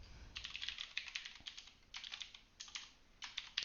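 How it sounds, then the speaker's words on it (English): Fingers type an email on a computer keyboard in quick, uneven bursts of light clicking, close to the mic and fairly quiet, with short pauses between runs of keystrokes and no talk. "and type in your email."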